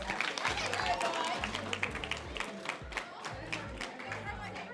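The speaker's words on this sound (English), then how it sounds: "I give everybody a round of applause." A crowd at a graduation ceremony claps and cheers in a dense, lively burst, with voices and a low thumping beat running underneath.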